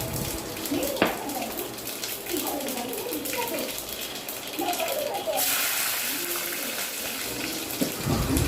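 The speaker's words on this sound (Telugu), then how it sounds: "ఆయిల్ వేడెక్కింది ఇప్పుడు ఆవాలు వేసుకుందాం అలానే జీలకర్ర కూడా వేసుకోవాలి" Mustard seeds and cumin sizzle and crackle steadily in hot oil in a pan, making a continuous hiss with occasional pops throughout.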